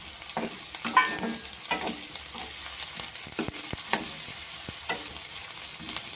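Green peas frying in a hot pan for samosa filling give a steady, loud sizzle, broken by scraping and clattering as a spatula stirs them. No voices are heard.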